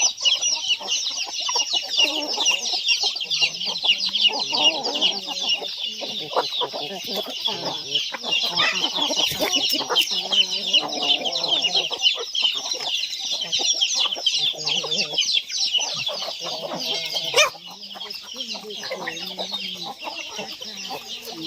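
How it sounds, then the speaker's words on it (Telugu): Wild jungle fowl cross hens cluck and chatter continuously nearby, a dense flock of overlapping calls kept up throughout with little pause. "అడవి కోళ్ళకి సంబంధించిన కోళ్ళు ఇవి"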